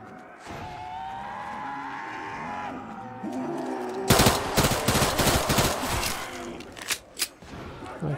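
Pistol shots in The Walking Dead video game, a burst of sharp close cracks fired in quick irregular succession after a stretch of quieter game ambience, followed by a few more spaced shots.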